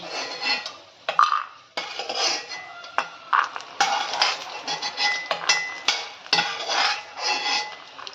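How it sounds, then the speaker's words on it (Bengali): Fried peanuts being lifted from a pan for chire pulao, with repeated clinks and scrapes of a metal spoon against the cookware, close and fairly sharp, no voices. "বাদামগুলো তুলে নিচ্ছি"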